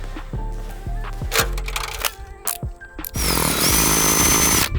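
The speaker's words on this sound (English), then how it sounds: "I cannot drill through this stucco." Power drill straining against stucco on a house wall, several short bursts of whirring and grinding that stop and restart, then a longer harsher sustained burst at the end.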